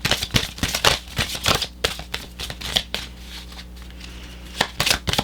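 Tarot cards are shuffled in rapid riffling bursts, then slowed to a few separate slaps and flicks as cards are drawn, crisp and close with no voices.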